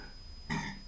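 A single short, quiet burp follows drinking Sharp's Doom Bar ale, a 4.3% bitter, with the burp rising briefly out of near silence.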